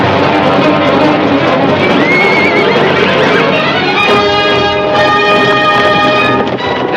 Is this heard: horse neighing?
yes